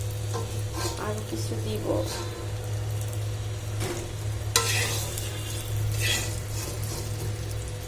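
Pointed gourd (potol) fries in a pan with a loud continuous sizzle while a utensil stirs and scrapes through it; someone briefly speaks over the cooking.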